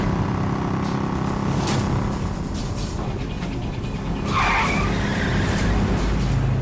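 A car pulling away fast, its tires skidding and squealing in a loud, sustained screech over engine roar, close by, with a sharp rise in intensity toward the end and no voices.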